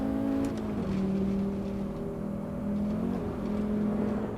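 A 1994 Audi Sport Quattro rally car drives steadily, its engine a sustained droning hum that shifts pitch slightly as gears or throttle change, heard from inside without talk.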